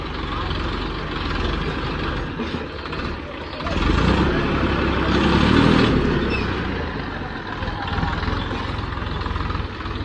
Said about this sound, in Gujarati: તો વે દિલીપ ટ્રેક્ટર ચલાવે છે